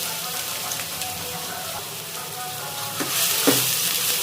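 Chopped onions dropped into hot oil with green chillies for an Andhra okra pulusu, a steady close sizzle with scraping stirs that grows a little louder toward the end, no talking.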